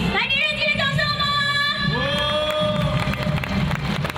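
Audience at a 2017 National Day evening gala in Taiwan cheers and shouts with clapping mixed in, a dense, loud crowd roar that holds steady throughout, with whoops and whistles rising over it.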